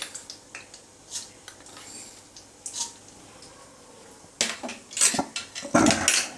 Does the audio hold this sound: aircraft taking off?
no